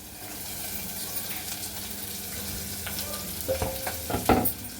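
Ingredients stirred and fried in a pan for a Telugu chana dal dish, cooked until golden, with a steady low sizzle and scraping stirs that grow louder and sharper near the end.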